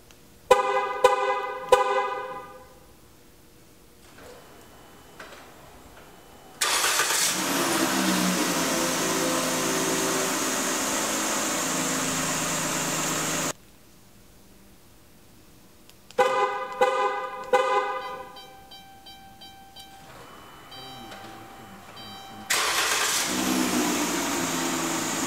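A 2012 Dodge Grand Caravan responds to a remote start with horn toots and chirps, then its engine cranks and settles into a steady idle; the horn-and-start sequence repeats, loud and close, with no talking.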